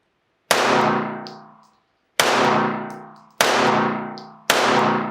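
Four loud, sharp gunshots from a WatchTower Apache 9mm double-stack pistol crack out at uneven intervals, each with a long ringing decay, a faint metallic clink between shots.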